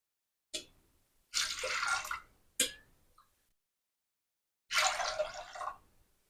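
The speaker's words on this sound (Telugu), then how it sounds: "దీంట్లో వాటర్ని యాడ్ చేసుకోవాలి" Water poured into a pot of washed toor dal in two separate bursts, each splashing for about a second, with brief knocks between them, close and fairly loud with no talking.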